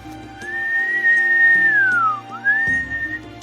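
A person whistles a drawn-out, sliding tone that rises, holds steady, dips down, then rises again, mimicking a sound they had heard, with a low hum running underneath.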